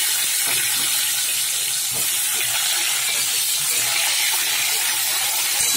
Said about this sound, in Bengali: তেল গরম হয়ে গেছে, আমি এই পটলগুলো এবারে দিয়ে দিলাম তেলের মধ্যে